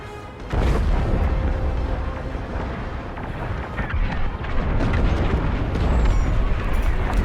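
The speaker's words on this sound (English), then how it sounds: "The frigate is about to explode." A frigate explodes in the Star Wars Squadrons space combat game, a loud sustained rumbling blast with a wide roar that continues steadily for several seconds without talk.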